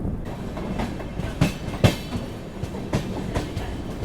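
The Chennai Central to Mangalore West Coast Superfast Express passenger train rolls along its rails after leaving Valathoor railway station, with steady rumbling and rhythmic clickety-clack wheel beats over the joints, loud and close from inside the carriage.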